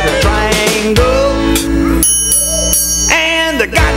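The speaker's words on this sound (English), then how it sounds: "A triangle I play this way." Bright metallic triangle strikes from preschool children in a rock and roll rhythm band, several ringing hits with long shimmering decay alongside singing and other instruments, loud and close.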